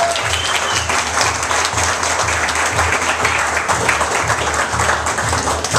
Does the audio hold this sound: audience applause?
yes